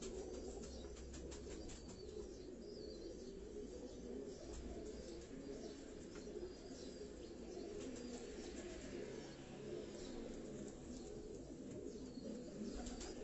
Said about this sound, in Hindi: ये तमाम उनके ब्रीडर कबूतर जो हैं ये आपको दिखाए जा रहे हैं।